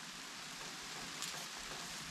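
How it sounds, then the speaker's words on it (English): Freezing rain patters on a tent at a winter wilderness campsite, a dense, even hiss of tiny impacts, fairly faint and continuous, with no voices. "That lovely sound in the background is freezing rain"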